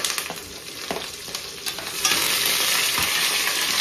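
Curry leaves and green chilies fry in hot oil for chicken pulao, a close, steady crackling sizzle that swells louder midway, with occasional stirring sounds and no talking.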